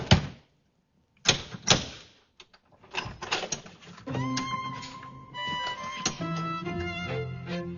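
A door is knocked on in a scene from an Egyptian TV drama series: a few sharp, loud raps come in quick succession near the start, then a sustained mechanical-sounding musical passage follows.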